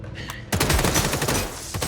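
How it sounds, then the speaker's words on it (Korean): Fireworks and gunfire in an action film as a retired special agent greets a crime gang's attack: a faint crackle, then a sudden loud, dense barrage of rapid overlapping bangs and pops that continues steadily. "준비한 폭죽과 총으로 환영 인사를 해주고"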